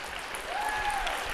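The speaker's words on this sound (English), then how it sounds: "Please applaud." An audience at an arts event applauds after a Charleston dance, a burst of clapping that swells and holds at moderate distance, with no talk over it.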